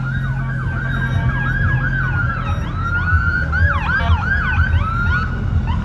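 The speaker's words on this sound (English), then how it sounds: "Oh, it's an ambulance up." An ambulance siren wails loudly nearby on a Trenton, New Jersey street, its repeating rising-and-falling sweeps over a low engine and traffic rumble, with no talking.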